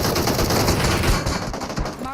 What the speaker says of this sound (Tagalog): bumabaril sa likod